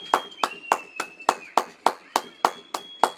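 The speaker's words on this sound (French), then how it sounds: "les 20 h et on va applaudir le personnel de la santé." People clap for health workers at 8 pm: about a dozen crisp, evenly spaced claps ring out close by at a steady pace, with a thin continuous whistle-like tone behind them.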